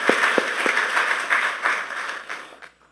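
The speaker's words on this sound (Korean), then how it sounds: "우리 하나님께 영광의 박수 올려드리겠습니다" A church congregation applauding during an ordination service, a dense wash of clapping with a few distinct nearby claps, steady for a couple of seconds and then fading out.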